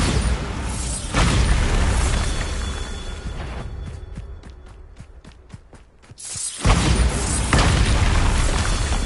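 A Bombarda blasting spell in a Harry Potter-style video game produces deep rumbling booms, then a series of rapid ratcheting mechanical clicks during a quieter stretch, followed by another heavy rumbling burst.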